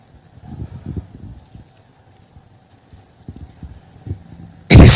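A horse's hooves clip-clop close by in uneven clusters of soft thuds, ending with a sudden loud burst of breathy noise.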